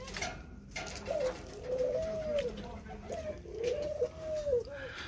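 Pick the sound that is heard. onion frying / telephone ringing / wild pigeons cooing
wild pigeons cooing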